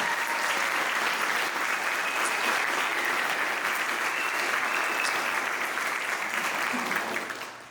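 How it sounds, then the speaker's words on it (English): Steady, dense applause from an audience at an environmental awards reception, sustained at an even level throughout and tapering off only in the final moment. "could we just have another round of applause for them?"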